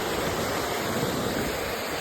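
Water rushes steadily over Grand Rapids Dam on the Maumee River, a dense, unbroken roar that holds even in loudness with no talk.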